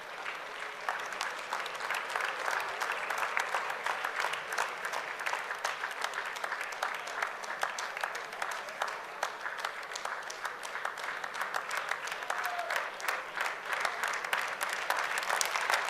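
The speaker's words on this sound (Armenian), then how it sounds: "մի փոքր ավելի բարձր ծափահարենք աղջիկներին" Sustained applause from a pageant audience at the Miss Armenia 2019 final as contestants take the stage, dense steady clapping from a large crowd holding at an even level throughout.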